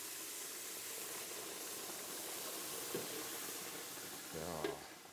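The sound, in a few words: cold venison stock sizzling in hot roux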